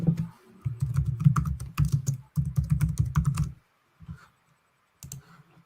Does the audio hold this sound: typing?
yes